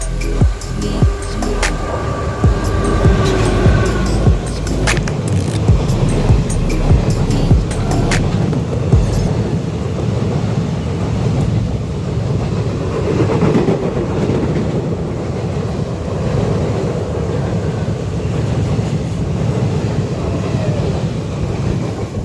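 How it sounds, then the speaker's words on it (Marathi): Konkan Railway passenger train from Diva to Ratnagiri approaching, with steady loud rumble and rhythmic clatter of wheels and wagons throughout, heard close and continuous with no talk. "समोरून येते रेल्वे"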